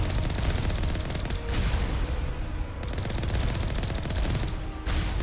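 Turret guns on wheeled dollies fire in Mass Effect 1 Legendary Edition, a dense, continuous hammering of rapid shots that stays loud and close throughout with brief dips, and no voices.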